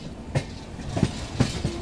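A Rajasthan Humsafar Express rolls slowly over rail joints near Phulera, giving a few spaced clicks and clunks against a low rumble, fairly close and moderately loud.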